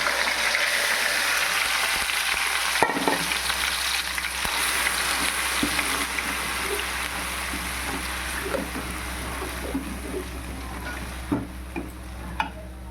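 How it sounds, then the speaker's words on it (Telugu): A masala of onion, garlic, ginger and tomato fries in oil for a mutton biryani, a close steady sizzle broken by intermittent scraping and stirring clinks. "ఇప్పుడు ఇదే నూనెలో ఈ మసాలా ఎత్తేసుకుంటానండి"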